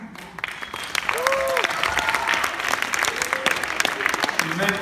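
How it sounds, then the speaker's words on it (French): Warm applause from a school ceremony audience cheering students, a steady dense patter of clapping that swells and holds, with voices and whoops mixed in. "un beau bravo à nos jeunes"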